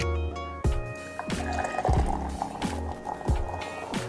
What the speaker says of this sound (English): Let's get into the pour.